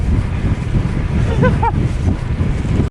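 Loud, constant wind buffets the microphone while cycling at about 40 km/h with a gusting tailwind on flat road, with a brief whoop of a voice briefly cutting through the roar.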